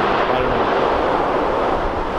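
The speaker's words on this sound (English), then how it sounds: "That's the sound of the waves coming up and the rocks hitting against one another." Surf washing onto a cobble beach on the Oregon coast, a continuous loud rushing and rumbling roar of waves and tumbling cobbles knocking together, with no voices.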